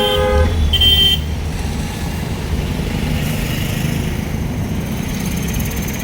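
A car horn sounds in traffic during a driving lesson, opening with a couple of short toots and then a sustained honk of about a second, over a steady low rumble of engine and road noise that continues afterward.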